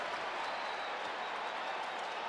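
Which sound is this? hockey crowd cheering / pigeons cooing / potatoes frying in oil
hockey crowd cheering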